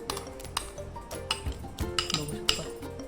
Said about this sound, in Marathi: आता एका पातेलीमध्ये आपण बीट धुत आहोत